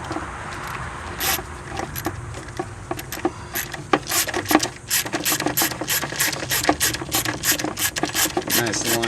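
A ratchet wrench clicks in quick bursts of sharp strokes, close and clear, tightening the battery hold-down bolt on a 2013 Hyundai Sonata, the pace picking up toward the end.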